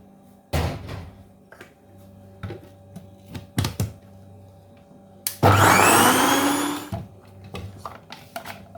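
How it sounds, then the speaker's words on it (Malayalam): A kitchen mixer grinder blends soaked chickpeas for falafel in one loud whirring burst of about a second and a half. Scattered knocks and clatters come before and after it, and no one speaks. "ഒറ്റയടിക്ക് എല്ലാം കൂടെ ചേർത്തിട്ടുണ്ടെങ്കിൽ എൻ്റെ മിക്സിക്ക് ഇച്ചിരി ബുദ്ധിമുട്ടാവാതെ കടിച്ച് കൂട്ടാൻ"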